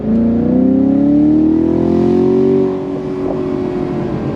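The 6.2-litre V8 of a 2021 Chevy Camaro Shock & Steel Edition revs up loud and close, pitch climbing in a throaty roar before dropping back to a low idle rumble.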